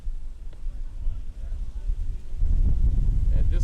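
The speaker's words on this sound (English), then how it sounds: "this gust we're feeling right now is probably exactly what hit that ball out in center field" A gust of wind buffets the microphone at an outdoor baseball game, a rumbling low roar that flutters and strengthens toward the end.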